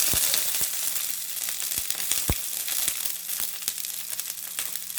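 Curry leaves and dried red chillies dropped into hot oil, giving a close, bright continuous sizzle with sharp crackles and pops scattered throughout.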